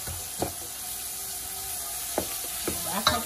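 Brown stew fish sauce simmering on high heat, stirred with a spoon: a low steady sizzle with a few scraping spoon knocks against the pot, close, no one speaking.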